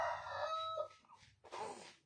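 A rooster crows near a house, one loud drawn-out cock-a-doodle-doo followed by a shorter second call, clear and close with no talk over it.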